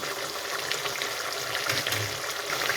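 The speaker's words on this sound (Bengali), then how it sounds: "দিয়ে মশলাটাকে আমি ভালোভাবে কষিয়ে নেব।" Spice masala sizzles steadily in a pan with a little water, for a Bangladeshi dried fish and potato curry; a close, continuous frying hiss with faint stirring and no talk.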